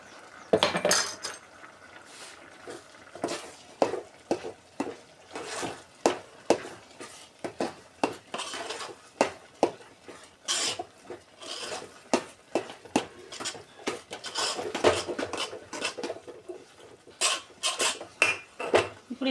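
Finely ground powder is poured into a vessel and mixed with a utensil, giving repeated scraping and clinking strokes in an uneven rhythm, close and fairly clear, with no talking.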